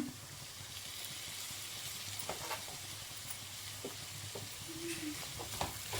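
Capsicum chitranna, a rice dish with bell pepper, frying in a pan: a steady low hiss of oil with occasional scrapes and stirring knocks, close and moderate in level, no speech.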